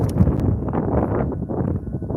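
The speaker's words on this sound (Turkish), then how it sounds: "Rüzgar çok abi kıyamıyorum Ramazan abi çözeceğim de vallahi rüzgar çok." Strong wind buffets the microphone in a constant low roar, with faint rustling and flapping mixed in, no voices heard, outdoors at a live pigeon auction.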